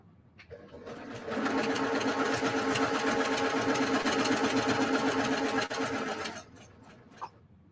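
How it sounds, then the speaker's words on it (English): A sewing machine runs steadily for about five seconds, stitching a quarter-inch quilt seam, its close, even mechanical whir starting and stopping cleanly, with faint handling sounds before and after. "And now I'm going to sew it together."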